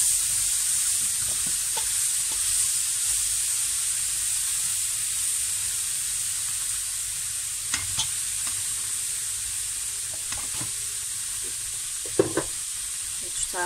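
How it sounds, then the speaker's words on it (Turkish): Broad beans stirred in a cooking pot while they sizzle, a steady frying hiss with scattered scraping clicks of the spoon against the pot, close and fairly quiet, with no talk. "Baklayı ekliyorum. Şöyle bir karıştırıyorum."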